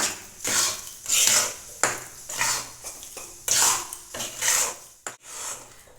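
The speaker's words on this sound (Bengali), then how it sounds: "আমি কিছুক্ষণ নেড়ে নিয়েছি" Chana dal halwa stirred in a pan with a utensil, giving repeated scraping strokes against the metal in a steady back-and-forth rhythm, close and fairly clear, with a couple of sharper clinks near the end and no talking.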